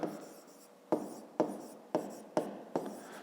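Pen strokes on paper during a fifth-grade geometry lesson, a series of short scratchy marks in an uneven rhythm, each starting with a sharp tap, close and quiet with no talking.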